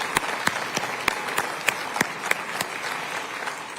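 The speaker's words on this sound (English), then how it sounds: "Please give him a round of applause." An audience at a city's State of the City address applauds, a steady wash of clapping with sharp individual claps standing out at a regular rhythm, moderately loud and even throughout.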